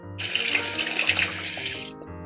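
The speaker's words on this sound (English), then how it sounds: "Just rinsing it off my hand." Water runs steadily from a tap as shower gel is rinsed off a hand, a loud continuous splashing rush that cuts off abruptly near the end.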